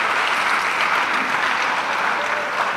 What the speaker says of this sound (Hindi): तैयब के लिए बहुत सी तालियां।